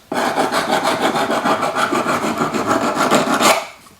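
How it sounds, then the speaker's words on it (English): Metal cuff pieces for an anticlastic ruffled cuff are sanded by hand to smooth out file marks, giving a close, steady back-and-forth rasping with a quick even rhythm for about four seconds. "sand them. Smooth out any file marks we might have."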